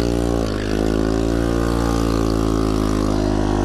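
A small motor scooter engine runs loud and close with a steady buzzing drone and strong harmonic hum, dipping briefly near the start before holding even, with no talk.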